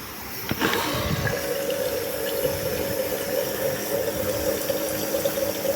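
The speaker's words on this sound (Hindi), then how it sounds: "ये धीरे धीरे जो पानी आता है और इसके अंदर पानी ऊपर तक आ रहा है" Water runs steadily from a tap into a container in a home kitchen, a continuous close rushing and gurgling that rises in pitch as the vessel fills, with no voices.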